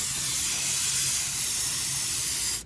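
Dry nitrogen hissing steadily through the refrigerant lines of a Trane air conditioner during a compressor replacement, a loud, even, broadband hiss that holds for a couple of seconds before cutting off abruptly.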